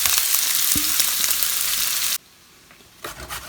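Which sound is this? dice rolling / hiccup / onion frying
onion frying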